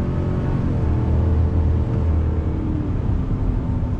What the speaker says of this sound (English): You got that great naturally aspirated V8 sound.